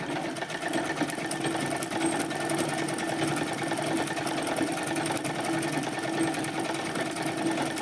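Sewing machine running a wave stitch, a steady fast mechanical chatter of the needle and motor held at an even, close, continuous level throughout without a break.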